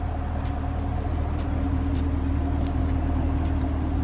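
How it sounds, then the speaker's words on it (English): A 2018 Chevy Camaro SS V8 exhaust idles continuously at close range with a steady, deep burble, a low rumbling drone with no talking over it. "So finally, let's hear that exhaust."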